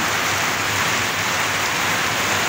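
A downpour of heavy rain roars up close, a thick steady hiss that never lets up.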